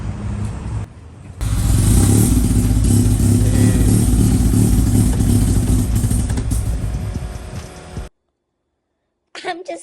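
A boosted Honda Civic engine cranks and revs hard, a loud sustained close-up roar with clattering texture lasting several seconds before cutting off abruptly, followed by a brief faint noise.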